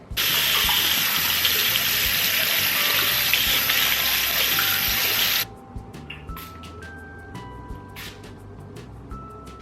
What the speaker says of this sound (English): the way to clean the derma roller is to rinse it under hot water